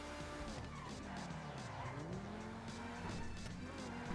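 Grotti T20 sports car in GTA 5, engine revving with pitch sweeping down and back up as gears shift, tires squealing in skids, heard steadily and fairly faint.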